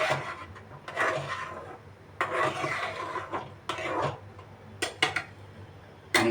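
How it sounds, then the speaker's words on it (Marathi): Chickpea flour batter stirred steadily in a metal pot, repeated scraping and rubbing strokes of the spoon against the pot, close and fairly loud, with brief knocks and pauses between bursts. "चण्याचं पीठ आपण यात घातलेलं आहे म्हणून अशी हलवायची, सारखी अशी ढवळून ढवळून घ्यायची"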